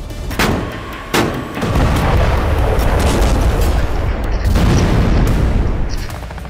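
Artillery strikes and explosions in Syria: several sharp booming blasts, followed by a rolling, sustained roar of detonations and rumble. The sound is loud and continuous, with a couple of distinct impacts near the start and middle.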